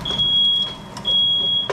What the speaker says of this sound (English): that's just the alarm letting me know that the dinner's ready